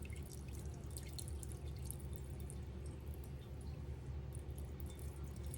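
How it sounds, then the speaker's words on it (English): Cooking oil trickles out of a frying pan in a faint, continuous pour with soft patters and drips, low and quiet beneath a steady background hum, no talk. "I'm going to just pour me some of this oil out of here"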